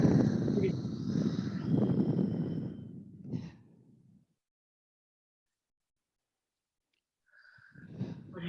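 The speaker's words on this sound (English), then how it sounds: "put your hand on it again and take a breath" A deep breath taken with a hand resting on the chest: a long, audible sighing inhale and exhale, then a few seconds of silence before another breath begins, close and fairly soft.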